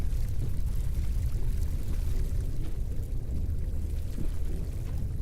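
Water running from a tap on a spaceship in a video game, a steady, even rushing pour with no break, moderately quiet and without talk.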